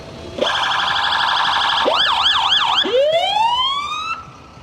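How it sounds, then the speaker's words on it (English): A fire department rescue truck, Rescue 74, blasts its siren at close range in a Christmas parade: a steady loud tone, then rapid yelping, then rising wails. "And this is a loud unit, Rescue 74 for the Comedy Fire Department,"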